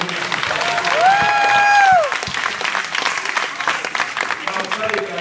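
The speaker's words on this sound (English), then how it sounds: "How about some applause for these guys?" Audience applause at a hypnosis show: a dense, steady burst of clapping with a brief whistle near the start, continuing at an even level and tapering slightly toward the end.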